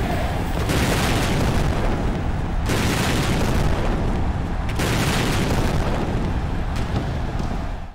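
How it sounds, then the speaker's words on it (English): A wrestling ring exploding in the AEW: Fight Forever video game, with loud, sustained blasts and rumbling roars that surge in repeated waves, separated by short sharp breaks, over several seconds. "here we're redeemed and the ring properly explodes"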